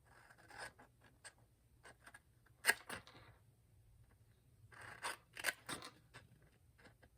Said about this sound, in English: Then I'm going to cut the score line on all 4 sides, and I'm going to cut off the little rectangle at the end.